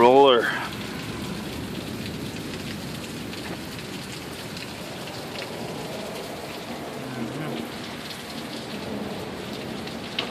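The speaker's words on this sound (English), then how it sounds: "It's not quite the sheer wall of rain yet," Heavy downpour in Sioux Falls with nickel-sized hail, a dense, steady roar of rain on surfaces throughout, opening with a brief tonal swoop and a short voice, then continuing evenly without talk.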